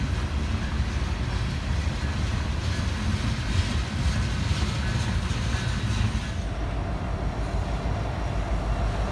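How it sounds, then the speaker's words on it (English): A Canadian National SD70M-2 diesel locomotive hauls a train past at close range in Covington, Kentucky, with a loud continuous rumble and rolling wheel noise that slightly eases toward the end. "it's a SD70M-2 CN"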